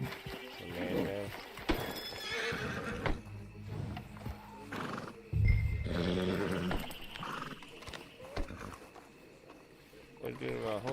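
A horse in the video game Red Dead Redemption 2 whinnies and snorts over clopping hooves, close and fairly loud, while people talk over it.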